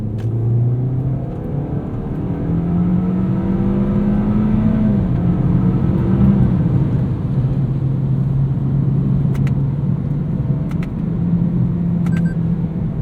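A 2020 Toyota Corolla XSE sedan's CVT-driven engine drones steadily, its pitch climbing smoothly as the car accelerates with revs held higher. It is heard from inside the car, loud and continuous, with no voices.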